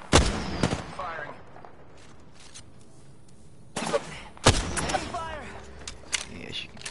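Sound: gunfire in a video game match

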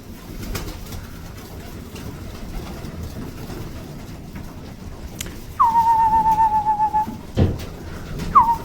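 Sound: pigeons

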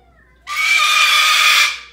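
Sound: African grey parrot screeching

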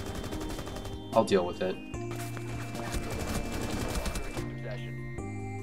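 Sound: gunfire in Rainbow Six Siege video game

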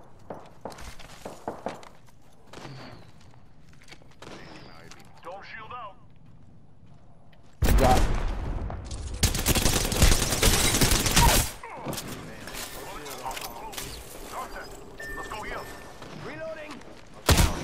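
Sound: gunfire hitting the player in a video game

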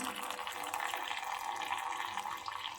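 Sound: wringing water out of cloth

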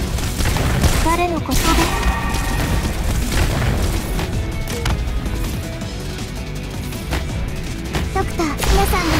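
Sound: weapons firing in the video game Arknights

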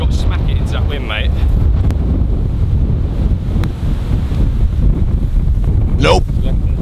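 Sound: strong wind on a golf course

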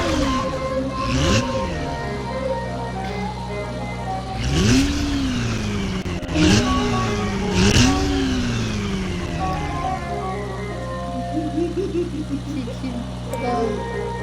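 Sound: car engine revving in a video game

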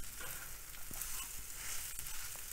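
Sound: stirring mashed potato into capsicum stuffing in pan

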